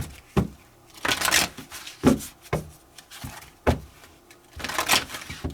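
A deck of tarot cards being shuffled by hand, riffled in several bursts of crisp papery rustling and snapping with short pauses between them, close and fairly quiet.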